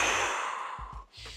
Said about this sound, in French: respirer très fort, il y a des patterns à respecter